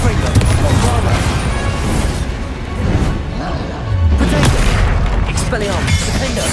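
Confringo and Bombarda spells in the Hogwarts Legacy video game set off a run of close, crashing booms and impacts amid chaotic battle noise, with voices talking over the fight.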